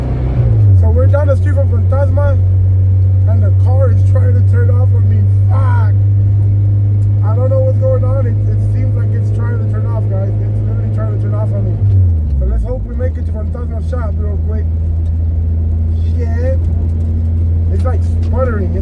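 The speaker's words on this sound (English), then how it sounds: "the car is trying to turn off on me" A Honda Civic EG sedan engine running rough, sputtering and nearly stalling, with a steady low drone whose pitch dips and recovers midway, while someone talks over it throughout.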